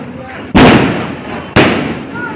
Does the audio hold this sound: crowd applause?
no